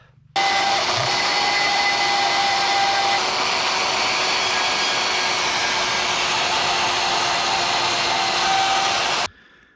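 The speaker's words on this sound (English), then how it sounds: "Now let's cut the hinge out." A power tool cuts a hinge out of metal while fabricating a 1/14 scale lowboy trailer, giving one continuous high whining roar of about nine seconds that starts and stops abruptly.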